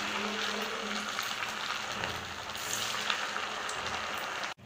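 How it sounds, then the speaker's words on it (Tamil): Leftover rice pakoda balls deep-frying in hot oil, a steady bright sizzle and crackle close up, continuous with a brief clatter at the end. "நம்ம எடுத்து வச்சுருக்க பால்ஸ் எல்லாத்தையும் ஒவ்வொன்றா இதில் போட்டு பொறிச்சு எடுத்துக்கலாம்"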